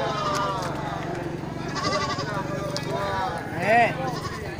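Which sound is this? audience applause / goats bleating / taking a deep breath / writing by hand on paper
goats bleating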